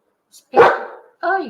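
A pet dog indoors lets out one loud, close bark, followed shortly by a higher, whining yelp.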